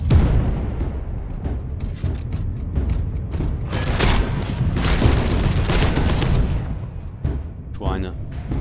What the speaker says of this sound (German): Die Explosion ist ja cool